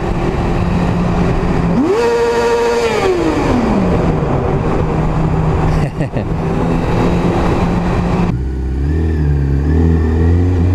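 A motorcycle engine passes close by a rider on the road near Mikołów, rising in pitch and then falling away over steady wind and the rider's own engine drone; a low idle rumble follows near the end.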